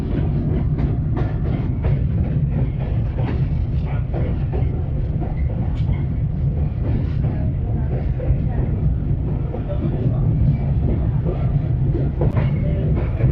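Aboard the Khushhal Khan Khattak Express as it rolls slowly through Jumman Shah station without stopping, loud rhythmic clickety-clack of wheels over rail joints and a steady low rumble fill the whole stretch.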